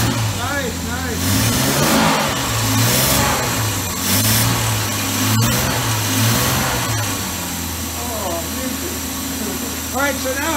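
Series 1 Jaguar E-Type engine running after 30 years of sitting, a loud, rough, wavering idle with repeated throttle blips, up close, with people talking over it.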